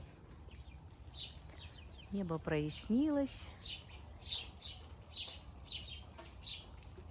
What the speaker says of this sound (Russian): Птички поют, свежо.